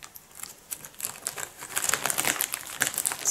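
A knife slices through the nylon wrap of a Milde Premium Sensitive toilet paper pack, making close, crinkly plastic rustles and scratchy cuts that grow louder and busier toward the end.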